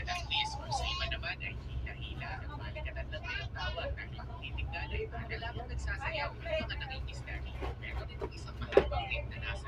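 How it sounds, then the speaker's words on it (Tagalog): Jammed road traffic at Barangay Apopong, with cars and buses idling, sets a steady low engine rumble throughout, while people talk over it and brief louder knocks come through near the end. "Grabe yung traffic"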